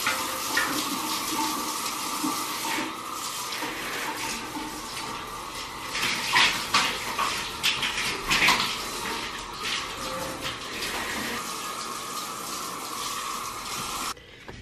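Shower water runs steadily while a dog is bathed, a continuous close spray with brief splashing bursts and changes in flow, then stopping near the end.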